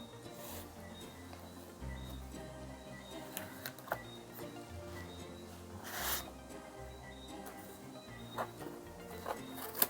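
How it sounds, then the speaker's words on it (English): Foam packaging rustles and squeaks while tweeters are unboxed, soft scattered crinkles and brief scrapes close by at low level, with no talking. "Foam packaging."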